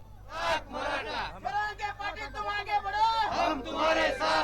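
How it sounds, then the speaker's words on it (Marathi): A Maratha reservation rally crowd at Vashi shouts rhythmic slogans together, "Ek Maratha, lakh Maratha," loud and close, the voices rising and falling in chanted phrases. "एक मराठा लाख मराठाच्या घोषणा ज्या आहेत त्या इथं आपल्याला इथे पाहायला मिळत आहेत"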